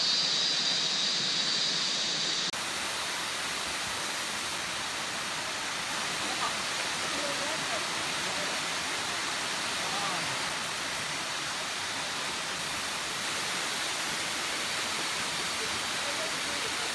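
Seven Wells waterfall in Langkawi pours down in a dense, steady roar of falling water, loud and unbroken from start to finish.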